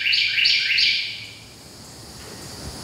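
A small bird chirps three quick high tweets in a row, then falls quiet over a faint low background hum.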